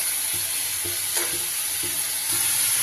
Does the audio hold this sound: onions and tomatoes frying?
yes